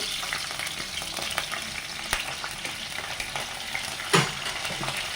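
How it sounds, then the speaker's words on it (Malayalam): Ginger, garlic, green chili and curry leaves frying in coconut oil for chicken roast, a continuous crackling sizzle with occasional stirring clicks and one louder scrape, close and steady with no talking. "ഇനി അതിലേക്ക് ഇഞ്ചി, വെളുത്തുള്ളി, പച്ചമുളക്, കറിവേപ്പില ഇട്ട് കൊടുത്തു."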